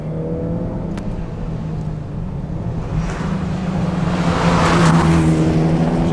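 A tuned 2013 Mitsubishi EVO X driven hard up a tight, twisting road, its engine droning loudly and steadily with a rising surge toward the end, heard from close by without talk.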